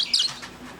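Baby Bourke parakeets chirping with a few thin, high tweets in quick succession, close but fairly soft.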